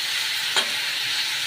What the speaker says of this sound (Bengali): ক্যাপসিকাম এগুলো ভাজার একটা সুন্দর গন্ধ বেরোয়